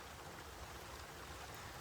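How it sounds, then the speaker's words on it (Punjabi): Steady rain falls over a wide area, a soft, even wash of drops hissing on surfaces at low volume throughout, with no voices. "ਮੋਟਰਾਂ ਮਟਰਾਂ ਫਿੱਟ ਕੀਤੀਆਂ ਚਲਾਈਆਂ ਤੇ ਮੀਂਹ ਫੇਰ ਫੋਲੀ ਆ ਗਿਆ"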